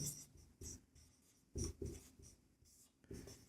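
Chalk or marker strokes on a board during a maths lesson, coming in short scratchy bursts of a few strokes each with brief pauses between, fairly quiet and close.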